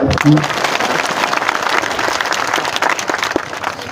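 A crowd at a Hindi-speaking political gathering bursts into steady, dense applause that holds loud and even for several seconds, with a brief voice audible near the start.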